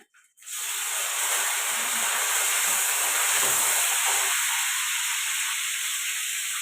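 Green chillies, curry leaves, onion and tomato tipped into hot oil at once, bursting into a loud, steady sizzling hiss that holds for several seconds, close and with no talking.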